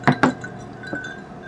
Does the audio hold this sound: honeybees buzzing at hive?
no